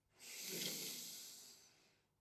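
One long, deep inhale before Kundalini yoga chanting, a soft airy hiss swelling and fading over about two seconds, close and alone.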